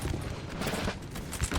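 Musket volley fired at point blank range in Napoleon Total War, a dense crackling burst of many shots at once, loud and close, with ragged pops continuing through the short stretch.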